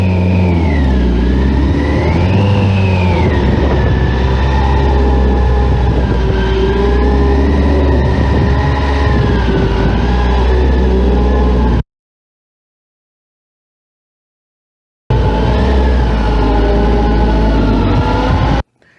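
A motorcycle engine holding around 1800 to 2000 RPM through slow-speed right turns, loud and close with a steady drone that rises and dips slightly, cut by a brief silent gap near the end.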